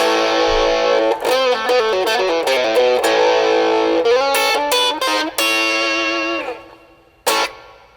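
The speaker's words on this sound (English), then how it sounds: "And there's even some reverb there." Electric guitar played through a Joyo JA-05G mini amp with distortion and reverb, loud chords and quick note runs ringing with a lingering tail, ending in a final sharp strum.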